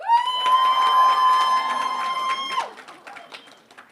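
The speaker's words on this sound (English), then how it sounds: "then give them your loudest cheer." An audience at a school debate cheers for a team with a loud, sustained whooping cry that holds for over two seconds, then cuts off and leaves softer scattered crowd noise.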